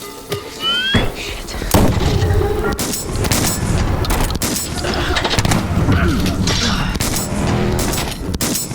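Gunfire effect in a sci-fi audio drama, a weapon emptied at a giant creature amid fire and lava: a dense, loud barrage of blasts and booms rolling on continuously, with distorted crackling throughout.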